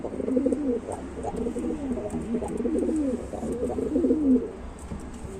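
Homing pigeons coo in a loft, a steady stream of soft, overlapping throaty coos from several birds close by, with brief low talk in the background.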